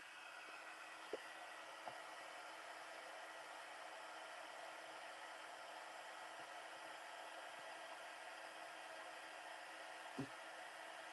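A heat tool blows a steady, faint airy hiss while heat setting embossed letters on a card, with a few soft clicks and taps over the continuous whoosh.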